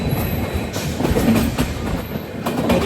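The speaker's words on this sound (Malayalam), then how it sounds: "ട്രെയിൻ ഇപ്പോൾ നാസിക് റോഡ് സ്റ്റേഷനിലേക്ക്" A Jan Shatabdi Express train rolls into Nashik Road station, heard from aboard as a steady loud rumble with rhythmic wheel clatter and faint squealing.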